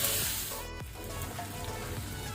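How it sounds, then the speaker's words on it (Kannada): Tomatoes frying in a pan for a chicken masala, a steady close crackling sizzle with fine popping throughout, no voices. "ಈಗ ನಾವು 2 ಟೊಮೆಟೊ ಹಾಕೋಣ. ಟೊಮೆಟೊ ಸಹ ಒಳ್ಳೆ ರೀತಿ ಫ್ರೈ ಮಾಡುವ"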